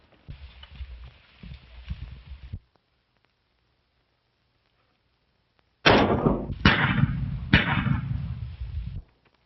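Horse hooves clip-clopping in a Western film scene, with a muffled run of rhythmic hoofbeats, then a pause, then louder, sharper hoof strikes close by.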